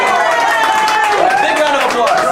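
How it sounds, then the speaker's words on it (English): A tour group at Castle Williams on Governors Island breaks into a short round of applause, the close clapping mixed with people talking and calling out over it. "Big round of applause."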